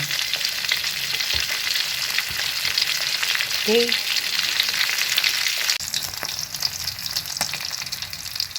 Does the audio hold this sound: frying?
yes